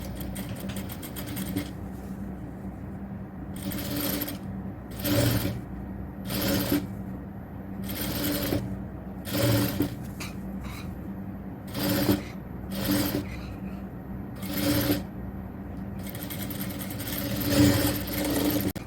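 A sewing machine stitches a triple-frill XL nighty in bursts. Its steady whirring runs throughout, with louder rattling runs spaced every second or two, close and clear.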